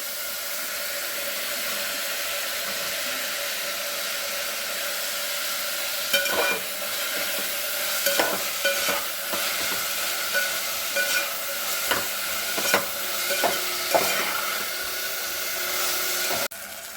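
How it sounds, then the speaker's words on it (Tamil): Tomatoes sautéing in a pan while cooking Kumbakonam kadappa, a steady, fairly loud hiss of frying with intermittent clinks and scrapes of stirring in the second half, no talking. "தக்காளி ஒரு 2 வதக்கு வதக்கிட்டு அப்புறமா கேரட் ஆட் பண்ணணும்."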